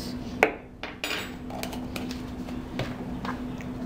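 A spoon clinks and scrapes against a bowl while stirring tamal batter, with a few sharp knocks and softer repeated scraping, close and moderately quiet.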